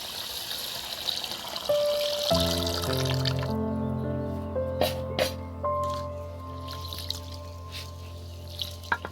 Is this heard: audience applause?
no